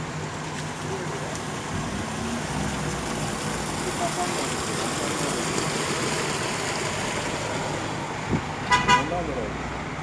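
Steady roadway traffic in central Bartın, Turkey, a continuous wash of car engines and road noise with a short burst of car horn toots near the end.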